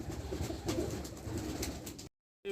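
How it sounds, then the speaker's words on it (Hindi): Pigeons cooing in a loft housing around 150 to 200 birds, a steady low murmur of overlapping coos close by, ending in a brief silence. "मेरे पास 150-200 के करीब कबूतर"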